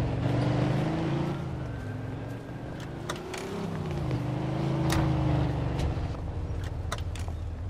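A car engine in the video game Mafia 2: Remastered hums steadily with a low, continuous drone, shifting pitch slightly as it drives, with faint clicks and ticks layered on top.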